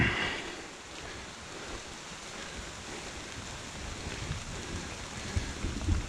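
Steady rain patters down outdoors with a few heavier hard drops striking close by, a continuous wash of noise without any voices.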